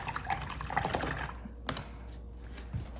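A paintbrush swishes and dribbles in a water cup during watercolor painting, brief splashy drips and trickles up close, fairly soft, with no talking.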